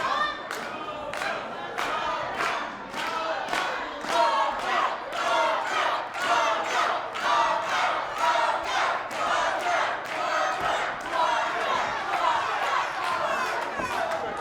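An arena crowd at a wrestling tournament final cheers and chants in loud rhythmic bursts, with thuds and claps punctuating a continuous roar throughout.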